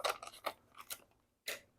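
Several quick, crisp scissor snips close by, cutting open a package, irregularly spaced with short pauses between cuts.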